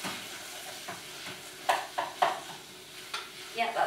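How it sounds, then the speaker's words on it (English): Tomato paste sauce gets stirred in a frying pan, a soft sizzle underneath with several scraping strokes of a spoon against the pan, close and fairly quiet, no talk. "Give that a stir."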